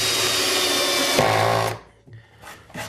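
A power drill drives screws into the wooden nest box of a chicken coop, a steady loud whir for well over a second with a brief rising burst, then stopping with faint clatter afterward.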